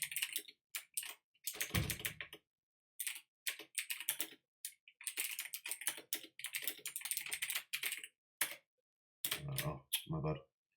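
Bursts of clicking keystrokes on a computer keyboard in a coding session, uneven clusters of taps with short pauses, close and fairly quiet.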